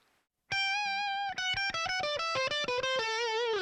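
Electric guitar played through the amp model of a POD HD500X with no effects, a clean lead line of quick picked notes in a descending run, loud and close with no voices.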